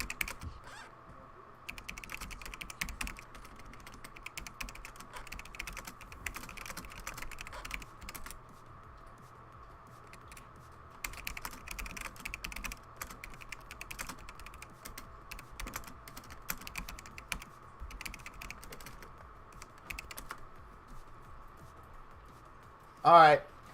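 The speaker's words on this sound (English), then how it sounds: "I'm typing something out." Rapid clattering keystrokes on a computer keyboard come in bursts with short pauses throughout. A person's voice is also present during a live game stream.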